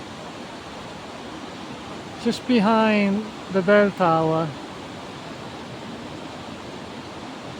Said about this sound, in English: There's a waterfall there,